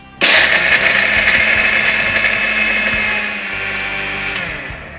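A kitchen mixer grinder powders cashews and almonds, starting abruptly with a loud, close, high-pitched whirring roar that runs steadily for nearly five seconds before easing slightly.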